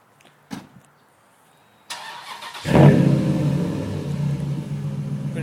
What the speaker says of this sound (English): We're going to do a cold start on the truck.